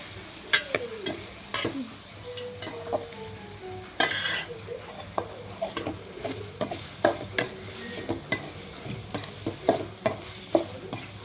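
Bay leaves and biryani spices sizzle in hot oil while a spoon scrapes and stirs the pan in repeated sharp strokes, close and fairly loud, with no voices.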